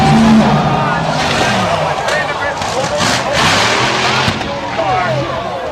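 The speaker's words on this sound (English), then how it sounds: "Chris Vandergrift's machine goes up and kept going all the way up, and it's a top fuel blower" NHRA top fuel dragster racing with a crash, a loud roaring engine and tire noise sustained throughout under an announcer's talk.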